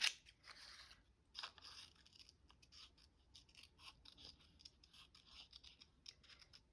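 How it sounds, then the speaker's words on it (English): Scissors snipping around paper tree shapes in fussy cutting, a quick irregular run of small close crisp cuts and paper rustles, quiet and without talk. "now we have to do a little bit of fussy cutting"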